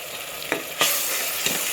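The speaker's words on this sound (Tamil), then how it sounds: "இஞ்சி பூண்டு பேஸ்ட் போட்டு நல்லா கிளறி எடுத்துக்கலாம்" Onions frying with ginger garlic paste, stirred in the pan for a biryani: a steady bright sizzle with three scraping stir strokes, the loudest at the middle, close by and with no voices.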